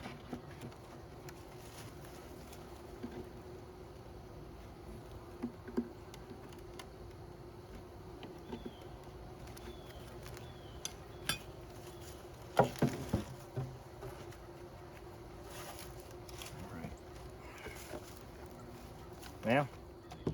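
Honeybees hum steadily from an opened queenless hive during winter preparation, a low continuous buzz with occasional louder passes as bees fly close, under intermittent handling noises and bursts of voice.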